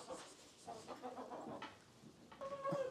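Chickens on a village farm at Boğatepe, Kars, among cows, produce a few soft, fairly close clucks and brief calls at low level, with quiet farmyard ambience and no talking.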